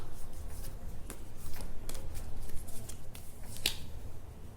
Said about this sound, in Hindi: और कार्ड्स निकालते हैं मित्रों।